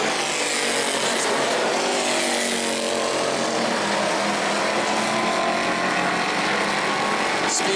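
Super stock race cars race at New Smyrna. Their engines make a loud, continuous roar that holds steady throughout.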